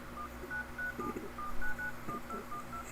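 A real phone keypad dialing a time-and-weather number, a quick sequence of short, evenly spaced DTMF beeps under a faint hum, no talk.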